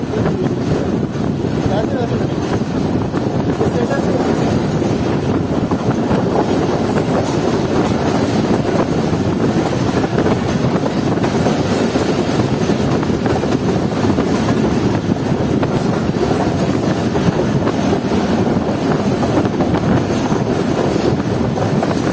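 A train runs at night past Lala Musa junction on the Rawal Express, with a steady, loud rumble of wheels and carriage noise and faint clickety-clack throughout.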